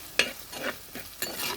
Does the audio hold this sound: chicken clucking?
no